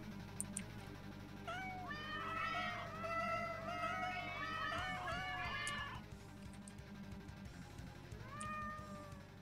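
Several generic cat meows from a video game pumpkin festival rise in a quick overlapping cluster, then a lone meow follows after a pause, all heard over a low background hum.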